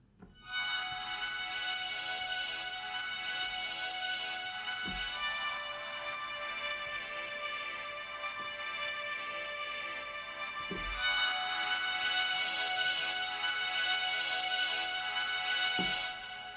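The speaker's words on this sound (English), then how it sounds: "I'm going to use a looped sample of a high string note" A sustained high string tone hangs steadily, swelling slightly and repeating in long loops with faint low thumps at the seams, no voices.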